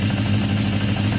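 Yamaha XJ550 motorcycle engine idling with a steady low rumble, close and fairly loud, alone with no voices.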